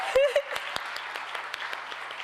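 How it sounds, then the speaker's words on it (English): Audience applause for parents at the 2025 Martin Luther King awards ceremony, a dense patter of clapping after a voice at the start, moderately loud. "Give them a round of applause."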